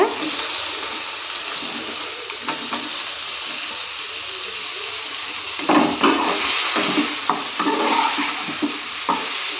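Boiled cauliflower stirred into hot frying oil with ginger garlic paste makes a steady sizzling hiss, with scraping stirs and spoon clinks toward the end.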